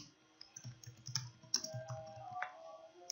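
Computer keyboard keys tapped in short irregular bursts during coding work, quiet and close, with a few sharper clicks.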